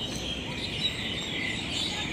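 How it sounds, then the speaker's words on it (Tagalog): Birds calling from the trees at Taiwan Expo Park, faint high chirps carried over a steady outdoor hiss of insects and distant ambience. "May ingay ng ibon doon sa labas, ay sa taas."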